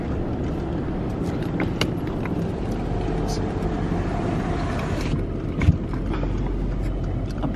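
Disney resort water taxi engine droning steadily from on board, a low constant rumble with wind buffeting and a brief thump near the end.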